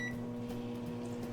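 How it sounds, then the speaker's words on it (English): A microwave oven runs steadily while heating chocolate chip cookie dough in a mug, giving a constant close hum with a faint higher whine and no talk. "Now we're just gonna microwave it for a minute and then see what happens."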